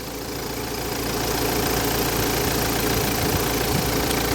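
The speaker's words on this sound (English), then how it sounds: "Checking the engine now." A 2004 Hyundai Tucson 2WD manual idles nearby with a steady, rough rumble and a faint ticking knock, continuous and unchanging throughout.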